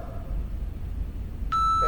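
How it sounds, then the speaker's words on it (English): An electronic exercise timer sounds a sharp, steady beep near the end, loud and clear over a quiet room during a mobility and stretching class. "You'll hear the beep."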